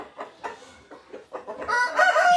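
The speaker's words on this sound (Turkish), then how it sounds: "Şimdi şey yaparken horozlara dikkat edin." Roosters crow in a rough, drawn-out call near the end, preceded by several short clucks and calls from fowl in a flock, all fairly close with no talk.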